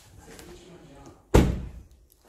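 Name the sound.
Audi A3 car door being closed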